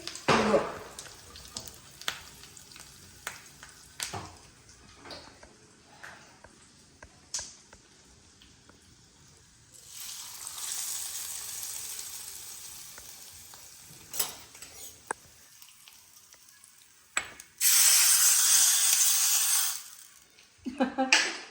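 Scattered clinks and stirring sounds, then two bursts of loud hissing sizzle as hot tempering oil with spices and curry leaves meets the pan, the second one sharp and intense.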